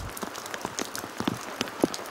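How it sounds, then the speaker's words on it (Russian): Rain falls near the Assumption Church in Kondopoga, Karelia, as scattered, irregular close drops patter and tap against a quiet background, with no talking. "Мы стремимся побыстрее укрыться от дождя под сводами церкви."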